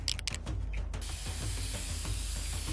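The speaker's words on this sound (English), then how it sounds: "painting or spray painting" Spray paint hisses from a can in Infamous: Second Son, a steady quiet airy hiss after a few short bursts at the start, with no talking.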